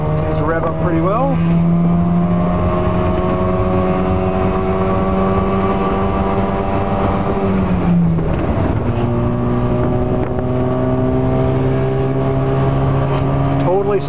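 Air-cooled two-stroke two-cylinder engine of a 1969-70 Subaru 360 rear-wheel-drive truck, a loud buzzing drone rising steadily in pitch, briefly dropping at a gear shift, then climbing again.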